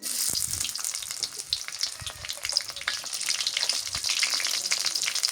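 Garlic frying in oil for stir-fried amaranth stem greens, a close, continuous crackling sizzle with dense popping throughout and no talk.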